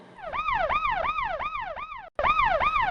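A wailing siren sweeps up and down in quick repeated cycles, loud and close, with a brief cutout near the end before resuming.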